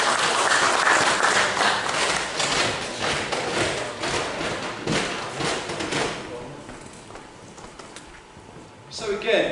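Audience applause at a paranormal research convention talk, a dense wash of many hands clapping loudly that gradually thins and fades, then swells briefly again at the end.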